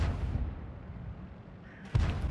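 A tank gun fires in World of Tanks at an open-topped T67 tank destroyer: one sharp, loud, booming shot near the end, after a stretch of low rumbling engine noise.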